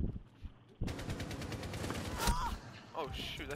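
Suppressed gunfire from an online shooter game, a rapid burst of muffled shots running continuously for a few seconds amid busy game noise, with voices talking over it.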